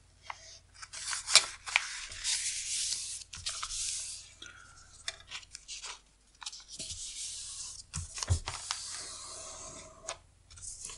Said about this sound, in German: Ich nehme eine Ecke und falte sie da herunter auf die andere Seite.